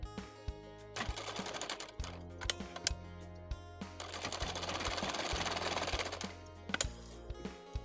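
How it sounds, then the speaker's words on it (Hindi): Short bursts of a sewing machine stitching a blouse neckline with lining, rapid mechanical whirring broken by pauses, with one longer continuous run in the middle. "सिलाई लगाते जाएंगे पूरे ही गले पे।"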